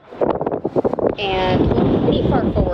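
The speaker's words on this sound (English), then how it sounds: "Sorry, it's kind of windy." Someone speaks briefly, then heavy wind buffets the microphone on the deck of the Carnival Splendor cruise ship near the spa, a loud, continuous roar that swamps the rest of the clip.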